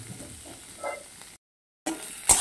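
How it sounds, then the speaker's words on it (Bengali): Onions frying in a pan, with a steady low hiss and sizzle and a stirring scrape; quiet, interrupted by a brief silence before the sizzle resumes. "পেঁয়াজটা কিন্তু অনেকটাই ভাজা হয়ে গেছে"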